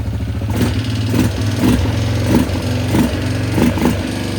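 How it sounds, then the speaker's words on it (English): Small Yamaha Grizzly 600 ATV engine running rough and loud with the choke on, rhythmic revving surges about every half second and a rattling, clattering tone. "That engine sounds a little noisy."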